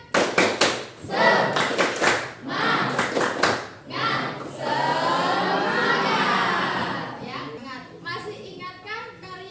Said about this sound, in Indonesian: Kita tepuk semangat bersama-sama supaya kita semangat.